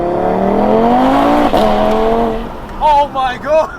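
An 800 hp big-turbo stage 5 Audi TT RS accelerates hard from inside the cabin, its engine note climbing steadily and then shifting, before an excited voice breaks in over the fading engine.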